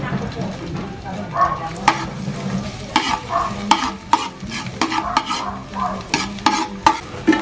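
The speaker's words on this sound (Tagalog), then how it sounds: "Gisa-gisa lang natin siya ng ganyan and then antayin natin hanggang sa mag-golden brown" Garlic sautés in extra virgin olive oil in a hot pan, a soft close sizzle broken by repeated sharp clicks and scrapes of a utensil stirring it.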